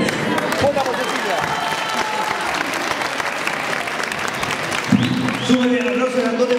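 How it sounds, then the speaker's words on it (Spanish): A live show audience applauds for Cecilia, loud continuous clapping from a crowd, with a host's voice and cheers rising over it toward the end. "Súbeme el aplauso grandote para Cecilia"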